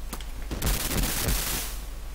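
Automatic gunfire from the Sega Genesis game Urban Strike comes as a short burst of rapid, crackling shots, fairly faint and with no speech.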